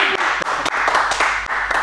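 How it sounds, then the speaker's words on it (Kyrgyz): A studio audience at a Kyrgyz talk show applauds as the host and guests are welcomed, a dense, steady wash of many hands clapping close by that briefly dips twice before swelling again. "кол чабуулар"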